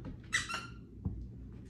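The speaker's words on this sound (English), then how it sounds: "she loves her squeaky toys" Dog's squeaky toy giving one short bright squeak followed by a faint thump, brief and close in a quiet indoor room.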